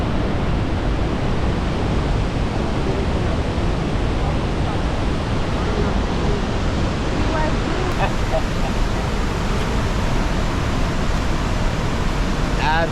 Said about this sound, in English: it's like miles and miles of just straight waterfall.